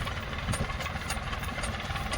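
A 1984 Swaraj 735 tractor engine running close by, a loud, steady diesel idle with rhythmic low knocking throbs and no voices over it.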